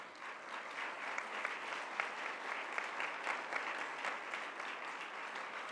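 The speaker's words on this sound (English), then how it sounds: "Please give them a big round of applause." Big round of applause from the audience at a pharmaceutical students' world congress opening ceremony in Kigali, many hands clapping in a dense, even roar that holds steady throughout, no voices on top.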